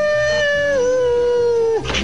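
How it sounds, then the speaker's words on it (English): A cartoon dog from the Foghorn Leghorn short "Sock a Doodle Do" lets out one long, loud howl that sags gradually in pitch and breaks off near the end, followed by a brief rustle. "what's that dog making all the hoop-de-doo about?"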